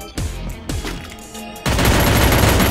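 Loud bursts of gunfire in a shooting video game, a few separate shots early on, then a dense, sustained barrage of rapid fire that fills the rest.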